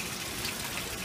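Water poured onto a washcloth during hand washing of clothes, a steady soft gushing splash that runs continuously for about a second, close and fairly quiet, with no talking.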